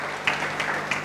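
Congregation applauding during a church worship service, a short burst of clapping with a few sharper claps standing out over a steady wash.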